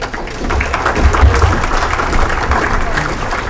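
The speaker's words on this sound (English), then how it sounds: "Nice round of applause." A crowd at a veterans dinner social in North Reading, Massachusetts gives a steady round of applause, loud and close, with a voice speaking over the clapping.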